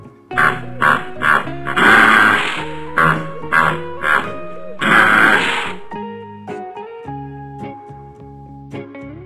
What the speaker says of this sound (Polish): Hipopotam.